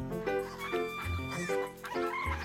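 Farm hens cluck and call in short, repeated bursts, close by, with an animated children's show feel; the calls rise and fall in pitch.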